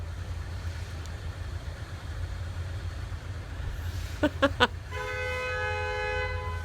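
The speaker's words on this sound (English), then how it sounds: "Oh, who's honking?" A few short car horn toots in quick succession on a street in France, followed by a sustained honk, over a steady low engine rumble.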